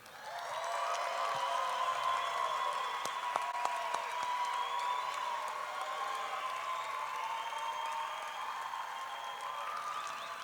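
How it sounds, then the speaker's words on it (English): A hall crowd applauds a Hall of Fame inductee, TCU's longest-tenured head coach, at an athletics ceremony, with steady sustained clapping filling the room for about ten seconds at moderate loudness, a faint murmur beneath. "I'm going to read out some of his superlatives after you applaud"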